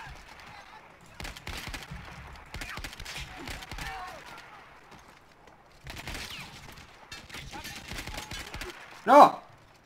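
Battlefield 1 battle with rapid machine-gun bursts in scattered clusters and a loud single blast near the end, mixed with shouting voices.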